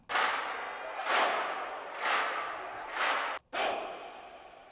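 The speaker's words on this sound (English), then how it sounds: "I'm emphasizing these claps with some shouts in the back." Big reverberant stadium-style claps land in a steady pulse about once a second, each a broad airy burst; any shouts behind them are indistinct, and the pattern briefly cuts out before the last hit.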